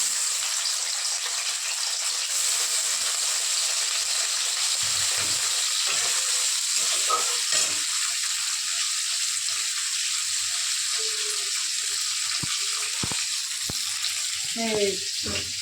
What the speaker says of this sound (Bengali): একটু মুড়ি ভাজা করলাম তেল দিয়ে হলুদ দিয়ে